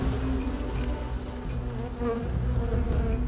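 A honeybee swarm buzzes steadily inside a hive box, a dense, continuous close-up drone with no talking.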